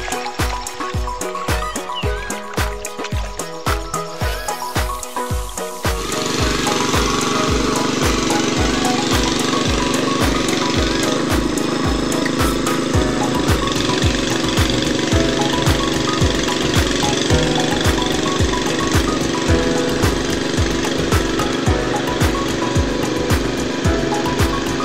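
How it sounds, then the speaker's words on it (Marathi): A tractor ploughs a flooded rice paddy in Konkan farmland, its engine pulsing in a steady loud rhythm with churning, splashing mud and water sounds that thicken after the first few seconds and run continuously. "इकडे मळे जमीन असल्यामुळं ट्रॅक्टर जरा रुकता"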